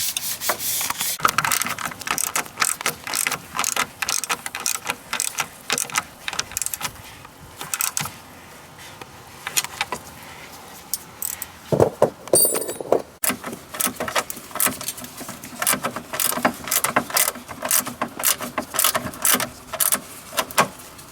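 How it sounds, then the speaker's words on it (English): Hand tools work hardware tight on a DeLorean fitted with a smaller high-performance radiator fan upgrade, giving dense, close bursts of rapid clicking and metallic rasping that run almost continuously with short pauses. "just go around and start tightening everything up."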